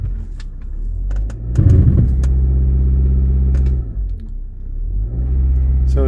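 A 2006 Volkswagen Passat 2.0T with a turbo boost sensor fault revs hard while brake torqued, its engine rumbling loud and steady, swelling in a strong surge and then settling back to a deep drone.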